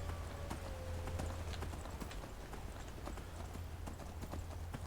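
Horse hooves clip-clop in Skyrim, a steady run of light, even hoof knocks over a low constant hum, with no talk.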